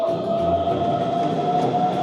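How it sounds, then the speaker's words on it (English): A train pulls into a station for the last departure to Copenhagen, giving a steady close rumble with a sustained high squeal, likely from the brakes, running throughout with no voices. "That's our train."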